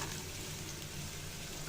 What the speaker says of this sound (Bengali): প্যানে তেল গরম করে নিয়েছি, আর এখানে পেঁয়াজটা ভেজে নিব